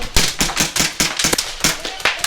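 Airsoft guns firing in a rapid, fairly steady string of sharp, loud cracks, close by, with no talk over them.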